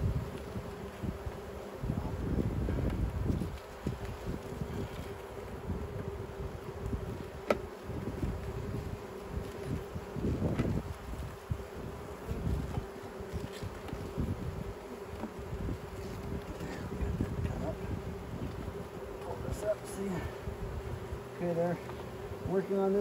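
Honey bees buzzing steadily around an open hive during an inspection, a continuous near hum with occasional closer passes, wind buffeting and handling noises, and a person speaking now and then.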